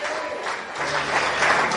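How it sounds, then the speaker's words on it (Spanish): A church congregation applauds loudly at a Spanish-language worship service, steady dense clapping from many hands filling the room throughout, with no voices over it. "Dale un fuerte aplauso al Señor"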